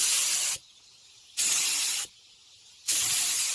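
A paint spray gun, set up for painting the rockers of a Ford F-150, fires three loud, close hissing bursts of roughly a second each, separated by short silent pauses.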